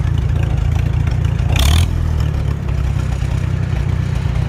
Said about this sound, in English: it gets as low as I can get this thing to idle